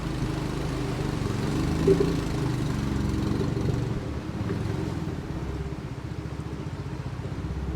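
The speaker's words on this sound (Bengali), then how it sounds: "স্রোতের বিপরীতে এই নৌকাটা এখন যাবে" A boat's engine drones steadily as the boat runs upstream against the current on the Sangu River, a continuous low rumble heard throughout at moderate distance with no voices.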